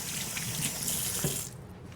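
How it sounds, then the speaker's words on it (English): Tap water running steadily into a kitchen sink while hands are washed, a close, full splashing rush that cuts off abruptly near the end. "let me wash my hands off real"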